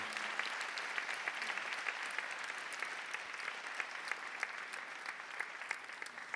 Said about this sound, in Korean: 큰 박수로 축하해 주시기를 바랍니다